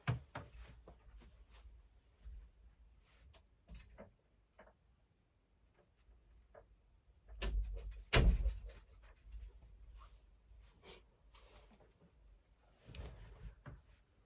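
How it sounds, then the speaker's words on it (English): Quiet room with faint knocks and shuffling, then a solid thump and click as a door is shut nearby, followed by soft handling noises. "I'm going to shut my door really quickly"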